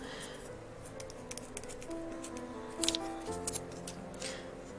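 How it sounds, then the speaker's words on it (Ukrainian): Scissors snipping zigzag teeth into a folded foamiran sheet for a rose, faint close cuts in a quick irregular series of short sharp snips over a quiet room. "Ось я просто вирізаю зубчиками ще"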